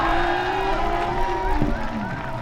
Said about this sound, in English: I heard a loud cheering